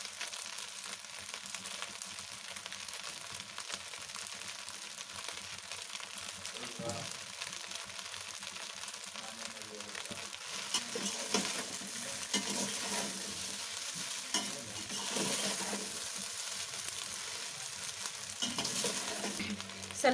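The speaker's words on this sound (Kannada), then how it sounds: "ಸ್ವಲ್ಪ ಲೋ ಫ್ಲೇಮಲ್ಲೇ ಇಟ್ಕೊಂಡು ಅದನ್ನು ಹಾಗೆ ಫ್ರೈ ಮಾಡ್ಕೊಂಡ್ರೆ ಆಯಿತು." Masala idli frying on a low flame in a pan, a steady soft sizzle that runs throughout, with scraping stirs now and then, close up and without speech.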